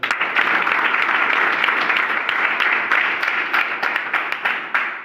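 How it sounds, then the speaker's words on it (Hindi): A classroom of students applauding during an English lesson, with dense, loud, steady clapping from many hands that thins out near the end into a few separate claps. "ताली बजा दो।"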